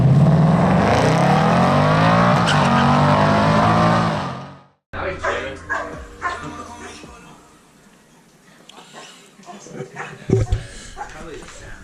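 A red convertible Ford Mustang EcoBoost manual with the pony package and a custom exhaust revs loudly and steadily up close, then cuts off abruptly, followed by quieter garage noises and voices.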